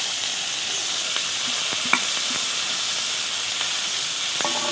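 Pointed gourd and potato pieces frying in a pan give a steady, even sizzling hiss with a few faint clicks and pops, close and without talk.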